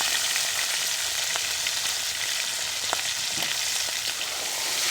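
Oil sizzles and crackles steadily in a hot pan ahead of frying eggplant in fish oil, a dense continuous hiss with a few sharper pops and no voices.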